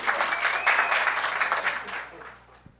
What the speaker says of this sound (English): Let's give an applause for Evelyn.